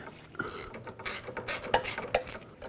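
A ratchet wrench tightens a sway bar link on a 2003-2008 Toyota Corolla, clicking in quick uneven bursts close by with no talk.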